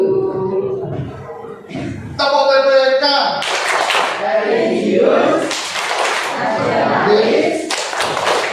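A group shouts the rhythmic Tepuk PPK chant, voices in unison broken by sharp bursts of hand claps and thumps that come in patterned beats, loud and close throughout.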